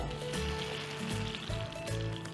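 Baked apples just pulled from the oven sizzle and crackle steadily at close range, a continuous frying-like hiss with no talk over it.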